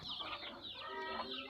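Local chickens on a small farm of about 300 birds cluck and chatter in a brief, close burst of overlapping calls.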